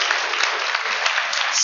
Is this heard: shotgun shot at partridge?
no